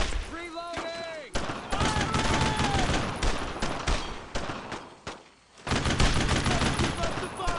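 Dense WWII rifle and machine-gun fire in Brothers in Arms: Road to Hill 30 cracks in rapid bursts, with shouted voices mixed in and a brief lull before the shooting resumes loudly.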